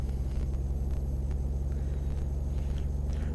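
A Peterbilt 389 truck engine in Euro Truck Simulator 2 drones at steady cruising speed, a loud, continuous low rumble with no talking.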